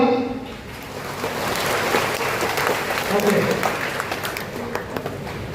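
Children at a guidance event for sanitation workers' kids clap their hands together, a steady mass of applause rising after a brief lull and holding fairly loud, with a voice briefly audible at the start.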